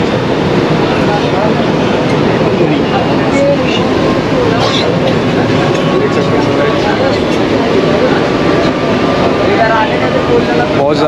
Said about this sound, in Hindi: ये देखो गाइस, ये है अपनी लोकल ट्रेन के अंदर साइड का व्यू